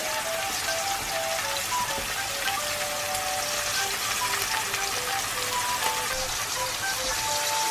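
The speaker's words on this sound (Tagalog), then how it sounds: "habang nagpiprito tayo ng karne" Flour-dusted beef for roast beef with onions sizzles and spatters in a hot pan, a loud, continuous crackling hiss with faint tonal notes in the background.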